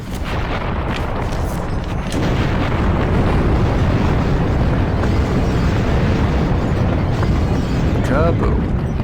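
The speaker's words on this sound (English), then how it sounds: "Explosion is a puzzle solution." A loud explosion in the video game Blood Omen 2 erupts into a sustained, heavy rumbling blast that holds at full strength, while a voice talks over it.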